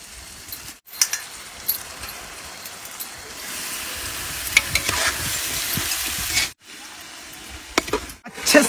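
Desi chicken fries with onion and tomato in a pan, giving a steady hissing sizzle. Scattered stirring clacks break through it, with a couple of brief pauses.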